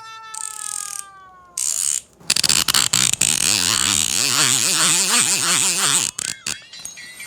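A fishing reel's drag clicks in rapid ratcheting bursts as the spool is turned by hand, close up and loud, with brief pauses between runs and a faint ringing tone at the start.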